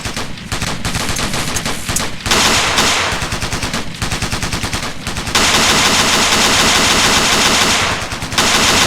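Sustained automatic gunfire from the Ghost Recon Navy SEALs video game during a squad suppressing exercise, rapid bursts of machine-gun fire running almost continuously and loud throughout with brief gaps.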